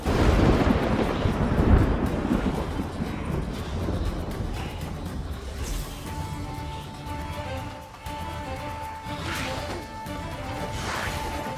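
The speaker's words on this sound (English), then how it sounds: "Not managed a storm that fine for ages." A thunderstorm in the video game The Witcher 3: a loud, dense wash of rain and wind with rumbling thunder and sharp crashing gusts, steady throughout with no speech.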